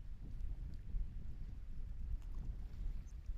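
Blustery wind at the Cape Canaveral launch site: low, buffeting rumble against the microphone, steady with gusty swells, with no talk.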